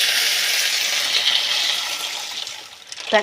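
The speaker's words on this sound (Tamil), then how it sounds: "இப்போ தண்ணி ஊற்றிக்கலாம்." Water pours in a steady gushing stream into a cooking pan while making pasta, close by, tapering off near the end with a brief clatter.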